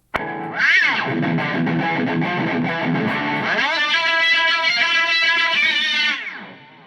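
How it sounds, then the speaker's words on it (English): A loud, heavily distorted electric guitar through a Boss GT-100 multi-effects unit plays sustained, buzzing chords with warbling pitch bends, then rings out and fades at the end. "Let's put a little bit of distortion on there."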